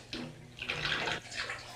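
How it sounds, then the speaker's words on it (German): Bathwater running out of a bathtub with a gurgling, splashing wash of water, close and fairly quiet, swelling in two bursts over a couple of seconds with no one speaking. "Ich lasse das Wasser heraus"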